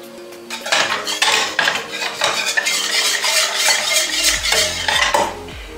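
A spoon stirs caramel in a metal pot, a close run of rapid scraping and clinking strokes against the pot's sides, busy and fairly loud, without any voice.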